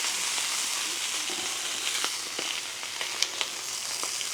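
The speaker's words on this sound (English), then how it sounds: "I've got some oil infused garlic. We will get that down." Garlic-infused oil sizzles steadily on a flat griddle beside cooking Italian sausages, a close, continuous hiss sprinkled with small pops and crackles.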